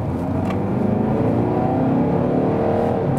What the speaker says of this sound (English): the diesel engine sounds quite well still when the RPMs are turned up